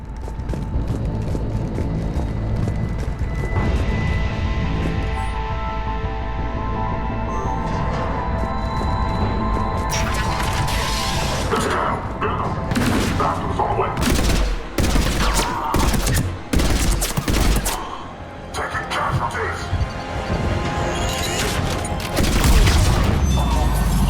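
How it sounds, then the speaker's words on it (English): Cannon fire and explosions in the video game Mass Effect 3, a low rumbling barrage with sharp bursts of gunfire and heavy booms clustered in the second half, loud and close. "Those cannons have to be stopped."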